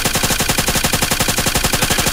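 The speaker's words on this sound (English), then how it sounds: "That's my suppressed shots." Rapid, evenly spaced bursts of suppressed gunfire in a night-time tactical shooter game, a loud continuous rattle of muffled shots fired close by with no pauses.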